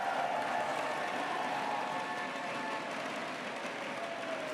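Steady crowd applause throughout at a League of Legends Worlds 2024 event in Berlin, a dense wash of clapping at moderate volume with no breaks, heard from within a large room.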